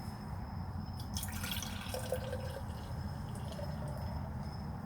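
Monster energy drink poured from a can into a container, a light steady trickle with small splashes and drips over a low background hum, quiet and nearby, no voices.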